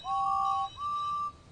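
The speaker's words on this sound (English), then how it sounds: "They whistled and tooted in excitement." Two steam engine whistles from a Roblox Thomas and Friends game, one clear sustained toot followed by a second slightly shorter one, loud and close with no talking.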